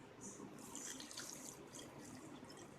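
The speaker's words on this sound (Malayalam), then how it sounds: "നമ്മൾ പിഴിഞ്ഞു വച്ചിരിക്കുന്ന തേങ്ങാപ്പാൽ ഒഴിച്ചു കൊടുക്കണം" Squeezed coconut milk is poured in for a Kerala palappam batter, a faint continuous trickling liquid sound, soft and low, with a voice briefly present.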